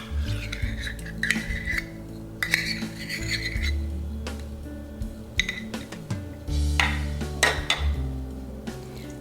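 A utensil mixing mayonnaise into beaten egg in a bowl for crab cakes, with repeated clinks and scrapes against the dish and a few heavier knocks, close and alone.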